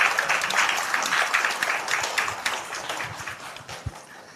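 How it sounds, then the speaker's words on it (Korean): An audience applauding to welcome a speaker at a talk, a full round of clapping that gradually thins and tapers off over several seconds. "여러분 큰 박수로 맞이해 주시기 바랍니다"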